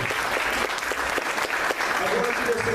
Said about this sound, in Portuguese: Nós podemos aplaudir ao Senhor pela vida dela.